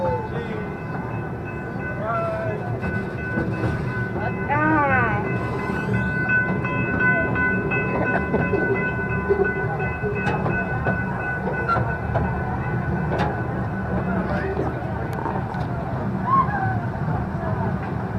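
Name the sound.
amusement park train ride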